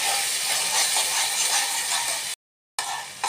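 A ground spice paste being fried in a pan gives a dense, even hiss that holds steady, cuts out briefly, then resumes.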